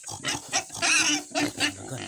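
A domestic pig grunts and snorts repeatedly in close, loud bursts, while a person's voice is mixed in among the grunts.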